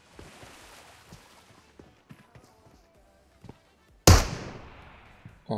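A sudden loud gunshot in PUBG Mobile cracks out after a stretch of faint footsteps and light tapping, followed by another sharp burst at the very end.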